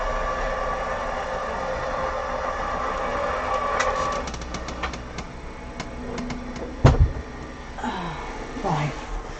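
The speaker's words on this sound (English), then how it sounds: "Surprising how much noise these machines make." A die cutting machine runs with a steady mechanical hum and a series of rapid clicks and clacks, ending in a sharp thump, heard close alongside a faint voice.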